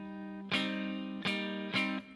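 Three strummed electric guitar chords from a song, played without the pinky hammer-on, each hit ringing out in an even rhythm, close and fairly quiet.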